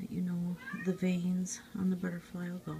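A cat meows a few times in the background while a person talks steadily over it.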